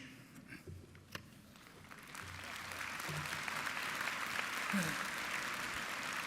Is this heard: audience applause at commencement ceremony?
yes